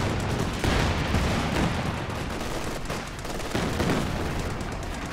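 Calliope rocket artillery pounds the ground in a Company of Heroes 2 match. A dense, continuous barrage of booming blasts rolls on without pause, loud and close, with no talking over it.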